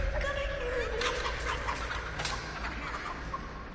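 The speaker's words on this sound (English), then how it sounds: "That freaking chicken." A chicken in The Texas Chainsaw Massacre video game clucks repeatedly in short, uneven bursts, moderately close against a background of game ambience.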